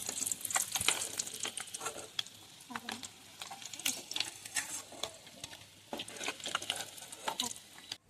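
Eggs fry in hot oil while being turned in a pan for an egg potato curry, giving a soft, close sizzle broken by light scraping and stirring clicks, with no talking.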